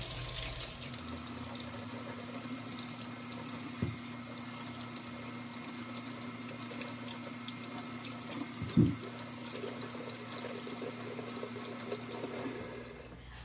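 Kitchen tap water runs steadily into a sink while potatoes are washed, a continuous close hiss and splash with a couple of brief knocks, no talking.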